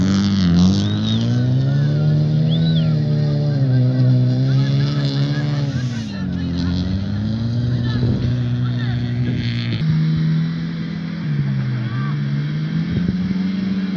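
Car engine revving hard at an off-road autocross, a loud sustained roar with rising and falling pitch as the driver works the throttle, heard close with crowd chatter in the background.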